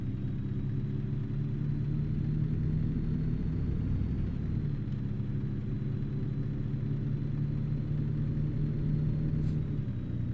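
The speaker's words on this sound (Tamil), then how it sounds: "வண்டி நல்லா வேகம் போகுதுல" A truck engine drones steadily while hauling a livestock trailer in American Truck Simulator, a constant low rumble with no change in pitch and no talking over it.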